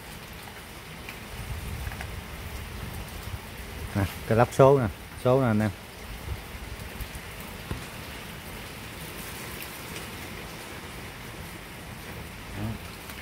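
Rain falls on a parked motorcycle with a Honda RV125 engine, a steady soft patter throughout. Someone speaks briefly over it.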